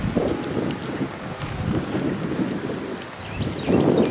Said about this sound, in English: It's so windy right here.